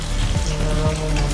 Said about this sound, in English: Let this bacon cook.